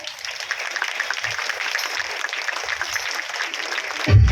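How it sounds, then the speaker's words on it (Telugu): A church crowd at a Christmas celebration in Jagtial claps steadily to welcome MLA Dr. Sanjay Kumar, a moderate, even applause with a sharp thump at the very end. "డాక్టర్ సంజయ్ కుమార్ గారిని చప్పట్లతో ఆహ్వానిస్తూ"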